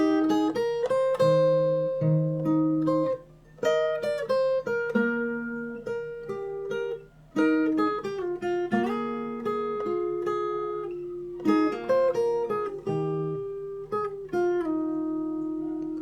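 Fingerstyle acoustic guitar plays the chorus of a song, with a steady picked melody over bass notes. It sounds close and clear and stays unaccompanied throughout, with one short pause near the start.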